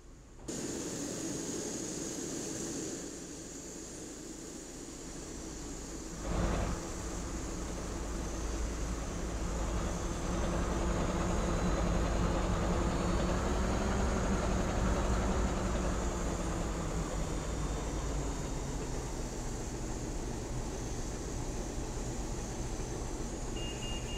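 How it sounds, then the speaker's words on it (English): A jet airliner's second engine spools up, heard from inside the cockpit as a steady broadband roar that swells gradually, with a single sharp click partway through and a faint beep late on. "Starting engine 2."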